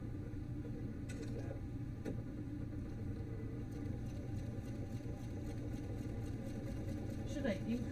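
A sewing machine stitching fabric with its cutter left unused, giving a steady, continuous motor whir and rumble for the whole stretch while people talk over it.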